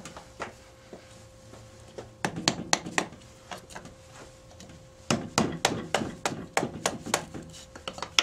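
A hammer strikes a chisel carving a natural edge oak bowl, sharp woody knocks coming in irregular bursts, sparse at first then in quick clusters, close and distinct.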